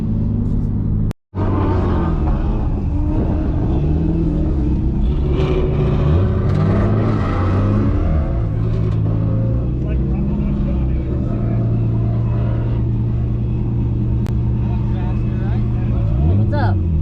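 A Nissan R32 Skyline GTS-t is driven hard around a track lap. Its engine runs loud and close throughout, and the revs climb and drop repeatedly through gear changes. There is a brief cut near the start.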